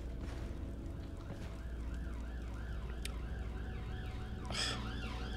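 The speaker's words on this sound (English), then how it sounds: "What is a bloody police car?" A wailing police car siren in the game Skyrim rises and falls steadily over a dense, constant background din, staying fairly loud throughout.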